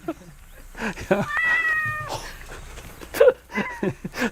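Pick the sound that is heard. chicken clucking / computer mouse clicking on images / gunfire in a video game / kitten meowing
kitten meowing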